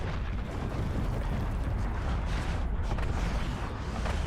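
LDBR artillery fire mission explosions in Black Ops 6, a loud continuous rumble of overlapping blasts and booms rolling without pause.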